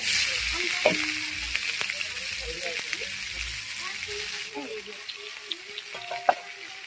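Sliced onion sizzles and hisses in hot oil over a traditional clay stove on a rooftop, cooking for a jackfruit curry, with occasional stirring clinks and a voice speaking near the end.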